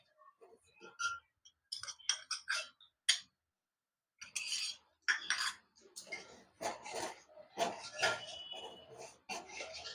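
A spoon clicks and scrapes against a bowl while stirring jalebi batter, in short irregular bursts of close, light tapping broken by pauses, with soft talk alongside.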